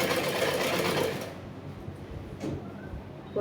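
Sewing machine stitching two pieces of blouse fabric together, a fast, steady motor whir running loud for about a second before slowing and stopping, followed by quieter handling sounds.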